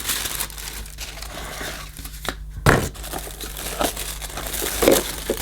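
Tissue paper rustles and crinkles steadily, close up, as an Electrolux 550 retro toy vacuum cleaner by Casdon is unpacked from its box, with brisk crackling bursts and occasional sharper tearing sounds and no talking.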